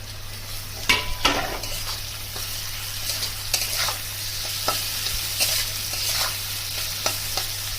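Onion paste frying in a pan for Bengali fish head curry (muri ghonto), a steady close sizzle with scattered scraping stirs of a utensil against the pan, no talk.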